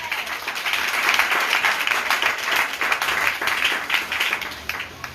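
A church congregation applauds loudly, with dense sustained clapping that swells and carries on for several seconds.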